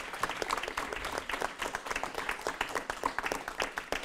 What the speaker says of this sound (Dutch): Mag ik een applausje voor Aniek de Ruiter